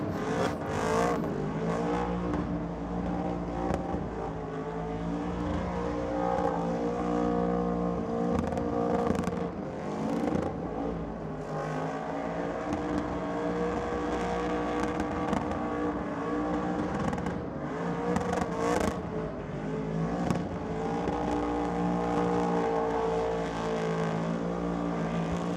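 A Beetle drag racing car at Sydney Dragway runs with a loud, sustained engine roar that stays harsh and dense throughout, its pitch shifting in waves as it revs on.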